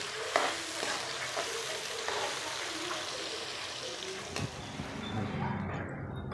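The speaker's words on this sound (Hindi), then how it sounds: "तो अभी यहाँ पे हमने जो प्याज उसको ब्राउन करना है।" Chopped onion frying in ghee in a kadai, a steady close sizzle with occasional stirring clinks throughout, no voices.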